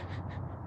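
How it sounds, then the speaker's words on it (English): A single crow caws twice in quick succession, close and fairly loud over a low steady background hum, with no talking. "Oh, that was a bird."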